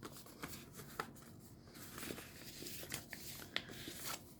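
Paper being folded and handled while making a junk journal pocket, with quiet crinkles, rustles and soft creasing sounds spread unevenly across the clip, close and faint, with no talking.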